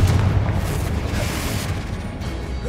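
Blasting spell explosion in a Hogwarts Legacy battle against ancient guardians: a dense, sustained rumbling boom with low-end roar and crackle, loud and close, fading gradually without a sharp single onset.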